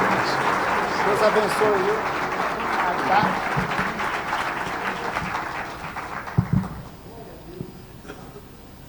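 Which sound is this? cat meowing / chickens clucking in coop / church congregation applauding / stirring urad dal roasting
church congregation applauding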